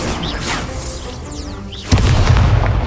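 An Incendio fire spell cast in Hogwarts Legacy during a Merlin Trial, a whooshing swell followed by a loud, deep booming burst of flame that carries on to the end.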